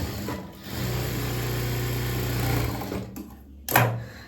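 Sewing machine running slowly while stitching a churidhar neckline with a mirror on it, a steady close whirring hum that stops briefly near the end and then restarts.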